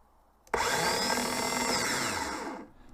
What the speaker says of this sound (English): Now engaging only the starter motor.